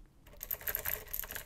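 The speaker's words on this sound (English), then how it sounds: "clicky keyboard" Clicky mechanical keys typed on a Commodore C64X, a modern build in a C64 case with blank keycaps, in a quick irregular burst of close, crisp clacks after a brief silent start.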